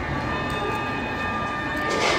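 A train passing at a station in Wrocław, Poland, a steady rumbling roar with a faint high tonal whine, rising slightly toward the end, with no voices.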